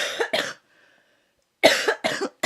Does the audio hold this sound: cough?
yes